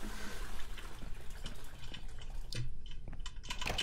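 A toilet flushing in the video game INFRA, heard as a close, continuous rush and gurgle of water over a few seconds that thins toward the end, with no talk.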